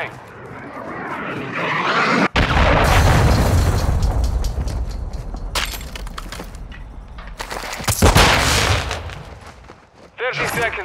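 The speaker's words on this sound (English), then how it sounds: "Hostile cruise missile incoming." A cruise missile strike in Call of Duty Modern Warfare: loud booming explosions and heavy rumbling blasts, with a sharp crack near the start and another big burst later, mixed with battle noise and voices.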